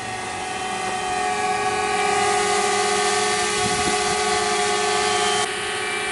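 Small drone lifting off outdoors, a steady loud buzzing whine of spinning rotors that holds close and constant throughout, with no talk.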